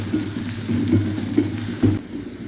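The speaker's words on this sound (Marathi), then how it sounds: "कांदा चांगला लालसर परतून घ्यायचा आहे।" Chopped onion fries in hot oil for a potato curry, a steady close sizzle broken by a few louder stirring scrapes before it cuts off.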